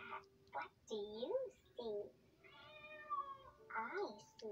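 A cat meows in a children's read-along setting, with several drawn-out, rising and falling cries set between brief voiced sounds, fairly close and moderately loud.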